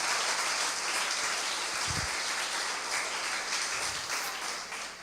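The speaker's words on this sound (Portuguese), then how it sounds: "aplauda ao Senhor bem forte" Congregation in church applauding loudly, a sustained, dense wall of clapping filling the whole stretch with a couple of low thumps underneath.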